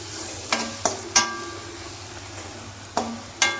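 Spices such as cumin powder, turmeric and salt are stirred in a hot frying pan, with a low sizzle under a handful of sharp scraping clinks of the spoon against the pan.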